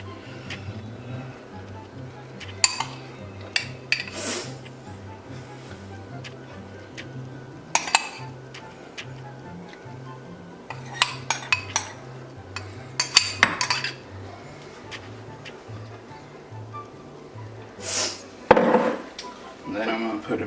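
Sausage spooned into a dish for a meat lovers pizza dip, with scattered metal spoon clinks and scrapes against the dish, some sharp taps, quiet and close over a low background hum.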